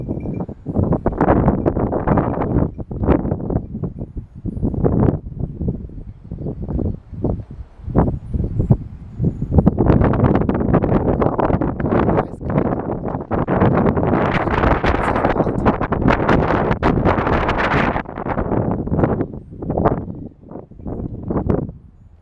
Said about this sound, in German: Wie es hier bläst.